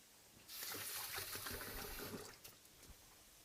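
A kitchen tap runs while hands are washed, a steady splashing stream starting abruptly and lasting about two seconds before cutting off into a few faint drips, close and alone with no talking.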